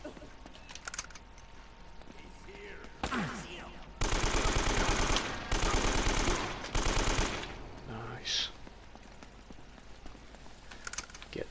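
Bursts of automatic gunfire in Uncharted: Drake's Fortune, loud sustained volleys in the middle with scattered shots and keyboard-like clicking around them, and a voice talking at times.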